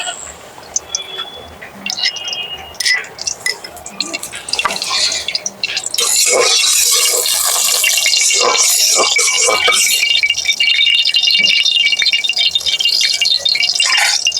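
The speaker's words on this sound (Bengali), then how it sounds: "আমার কড়িয়া গরম হয়েছে এবার আমি তেল ঢেলে দেবো" Oil is poured into a hot kadai and crackles into a loud, steady sizzle and rattle. Faint clinks and taps come first, then the spatter grows and keeps going to the end.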